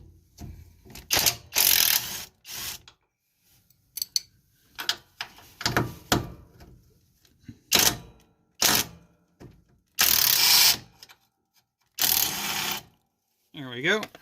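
Ratchet wrench turning 13 millimeter bolts on a John Deere LA105 riding mower during transaxle work, heard as repeated close bursts of rapid clicking separated by short pauses.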